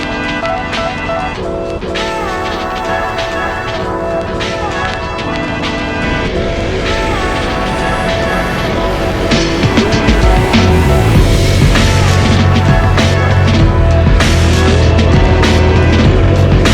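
Honda CRF250L motorcycles ride along a road, the engines droning loudly and steadily up close, their pitch climbing and shifting as the bikes accelerate, with wind noise throughout.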